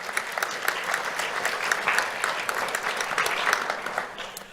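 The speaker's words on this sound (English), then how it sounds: "Let's give them a big round of applause." An awards ceremony crowd gives volunteers a big round of applause. The clapping is full and continuous and holds steady before fading slightly at the end.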